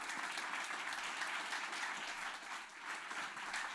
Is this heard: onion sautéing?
no